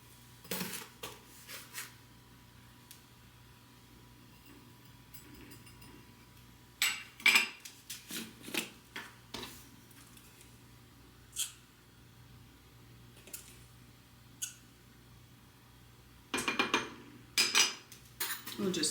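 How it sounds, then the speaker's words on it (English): A fork scraping and clinking against a bowl while mixing 3/4 cup of brown sugar with 2 teaspoons of cinnamon, in short irregular bursts of close taps separated by quiet pauses. "We'll just mix this together with a fork"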